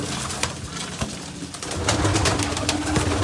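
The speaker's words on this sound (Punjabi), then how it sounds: "ਇਹ ਕਬੂਤਰ ਬਈ ਘੱਟੇ ਡਰਦੇ ਆ" Pigeons cooing in soft, low repeated murmurs close by, with faint rustling and some brief sharp clicks in the background; no one speaks.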